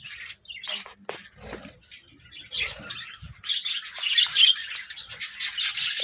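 Birds squawking and chirping close by, with two pigeons pecking at grain among them; calls come in irregular bursts that grow busier and louder in the second half, with no talk.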